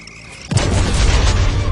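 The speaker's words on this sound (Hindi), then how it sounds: "लेकिन बॉब ने सबकी भरपाई की एक बड़े से धमाके के साथ।" A big explosion goes off suddenly after a quiet lead-in, its deep loud boom rolling on and rumbling steadily until the end.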